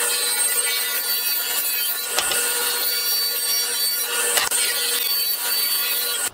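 Wood being sawn to trim the side of a cabinet panel, a loud, close, continuous rasping cut with a couple of brief dips, heard alone.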